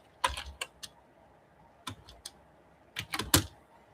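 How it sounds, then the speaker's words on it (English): Keys clattering on a computer keyboard during a live online workshop, two short bursts of close, crisp clicks separated by a pause, with no one talking over them. "I'm gonna get and type something."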